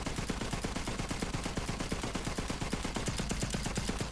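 Rapid, relentless pistol fire from a Borderlands 3 weapon with infinite ammo, dozens of evenly spaced shots rattling off in a continuous stream with no pause for reloading.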